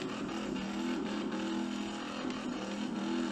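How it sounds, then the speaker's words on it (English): A car engine in the Car Mechanic Simulator video game, revving hard and steadily during burnouts on dirt, a continuous droning roar with slight pitch wobble and no talk over it. "Doing burnouts in the dirt."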